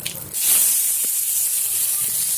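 Curry leaves dropped into hot oil with popped mustard seeds in a kadai burst into a loud, close hiss that keeps sizzling steadily to the end.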